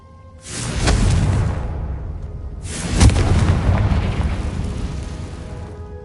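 Two deep booming fire-spell blasts from a Harry Potter video game, each a loud rumbling burst that swells and fades slowly, the second following about two seconds after the first.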